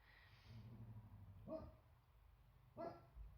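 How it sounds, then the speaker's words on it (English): A dog barks indoors at a house, two separate short barks with a low whine before them, moderately close but fairly quiet, no talking. "the dog is barking at everything"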